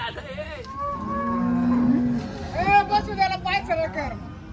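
A cow moos at a cattle market in Kopargaon, one long, loud, close bellow followed by a second wavering call, with crowd chatter behind.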